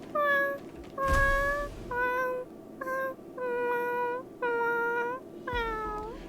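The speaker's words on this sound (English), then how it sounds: "This cat is singing a very sad song." Cats meowing in the video game Honkai: Star Rail, a series of about seven drawn-out, wavering mews that rise and fall, each one clear and fairly loud with brief pauses between.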